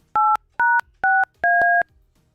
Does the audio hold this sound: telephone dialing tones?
yes